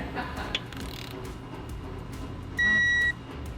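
A torque wrench tightens VANOS bolts to 12 Nm on a BMW E46 engine, giving faint close mechanical clicks and ratcheting followed by one short electronic beep.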